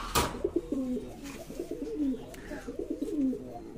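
Fancy pigeons cooing in a loft, several soft, throaty coos repeating in an irregular overlapping rhythm at close range, with faint rustling and no talk.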